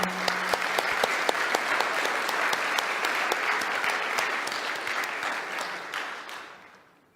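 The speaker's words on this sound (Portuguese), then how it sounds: "Let's applaud once more to greet each other" An audience applauds at a Questra Dubai asset management event, a dense, loud wall of many hands clapping with sharp individual claps cutting through, holding steady before tapering off and ending.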